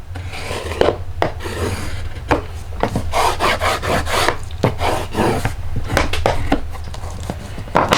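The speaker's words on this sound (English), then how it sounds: "Give it a good burnish. My bone folder so I can really" A bone folder burnishes a folded paper card crease, giving repeated scraping, rasping strokes with short sharp taps between them. The sound is close and clear, runs for about eight seconds and has no voice over it.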